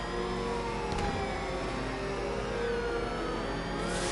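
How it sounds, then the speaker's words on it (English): Batmobile engine in Batman Arkham Knight roaring continuously while drifting, a loud sustained revving whine with shifting pitch and no pauses. "The Batmobile drifts."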